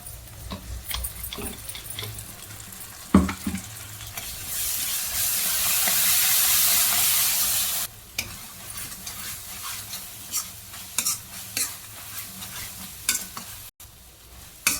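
Ground masala paste made with coriander and curry leaves frying in oil for egg masala gravy, stirred with scraping spoon strokes, a loud hissing steam surge midway, then steady sizzle and clatter up close.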